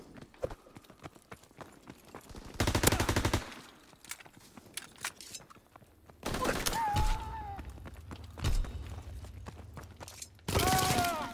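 During a WW2 video game match, bursts of rapid gunfire crackle in several loud volleys between quieter stretches, with someone talking faintly in between.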